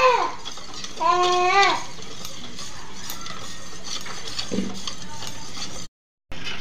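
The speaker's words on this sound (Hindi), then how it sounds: "अच्छी तरह से मिक्स कर लेंगे" Grape barfi mixture stirred in a pot with a spoon, giving a steady close scraping and clatter with a few squeaky strokes early on, then a brief drop to silence near the end.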